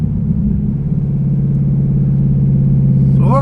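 Deep, loping idle from a cammed 2013 Holden VF SSV Commodore V8, a steady loud low burble throughout, with a brief higher squeal near the end.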